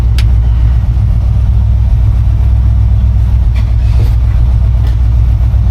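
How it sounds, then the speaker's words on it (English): A 1952 Chevy 3100 pickup truck engine idles steadily through its exhaust, a loud, continuous low rumble with an even, unbroken throb and no voices. "The exhaust sounds great."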